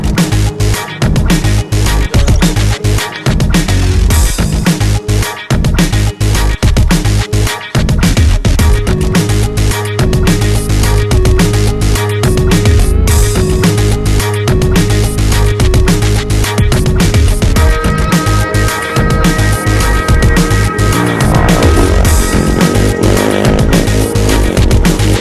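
A KTM enduro motorcycle ridden off-road, engine loud and close throughout with revving rises and falls as the rider works over the terrain; no talking.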